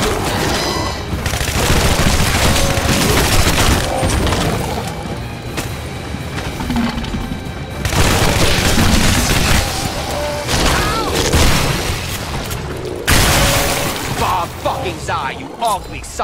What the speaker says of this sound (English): don't know why I feel the need to burst fire. This thing has no recoil.